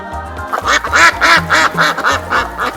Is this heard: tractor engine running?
no